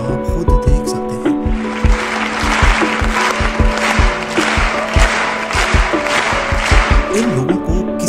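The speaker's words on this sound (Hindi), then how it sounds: "इस वीडियो में ऑडियंस एक परफॉर्मेंस के लिए तालियां बजा रही है।" An audience claps for a performance, the many hands gradually falling into a shared rhythm, producing steady sharp claps over a faint tonal background and murmur.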